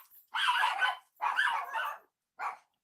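Dogs bark indoors in three sharp, close bursts, the first two long and rough, the last one short, with silence between them.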